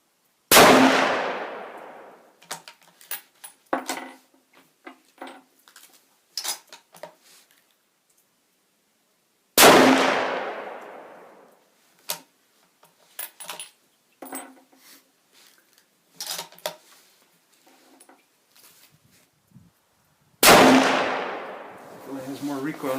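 A Remington Sportsman 78 in .30-06 fires hand-loaded 125-grain Sierra practice rounds, three loud, sharp shots spaced several seconds apart, each ringing out, with metallic clicks and clanks of bolt cycling in between.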